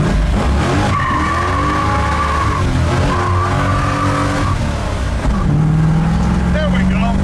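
A 1960 Chevrolet Biscayne with a 496 cubic-inch V8 does a burnout. Loud, continuous tire squeal rises and falls over a roaring engine for several seconds, heard from close range.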